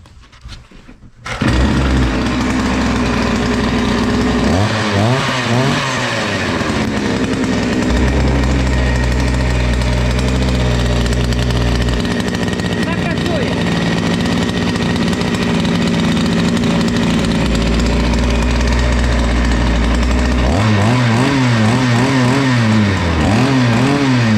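A small two-stroke chainsaw engine, slightly warm, starts without choke, sputtering to life and running loudly, revving up and down in bursts between stretches of rough idling, close by in a garage.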